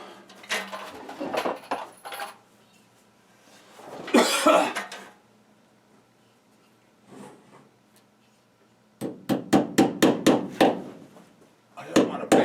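Hammer tapping staples into wood to secure electrical wire during a bathroom remodel for a tankless electric water heater, heard as clusters of sharp close knocks in bursts with pauses, the last run a rapid series of strikes.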